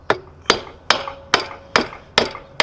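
Seven sharp metallic hammer blows on a Mazda RX-7 FC rear suspension arm land at a steady rhythm, each ringing briefly before the next strike, close and loud.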